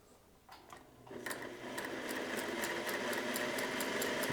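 A 1950s Singer 401a sewing machine, last serviced in 1994 and freshly oiled with a new needle, whirs up from a few clicks into a steady, fast, rhythmic hum that holds at an even level.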